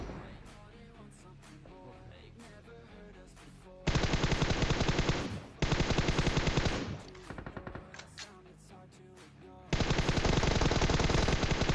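Automatic rifle gunfire in the mobile battle-royale game PUBG Mobile: several loud, rapid sustained bursts over a background of quieter game sounds and music.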